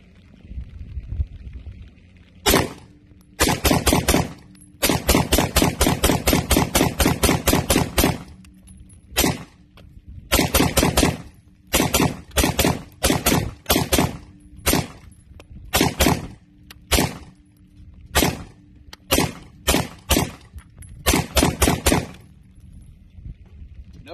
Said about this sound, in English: Shooting Herders 223 ammo.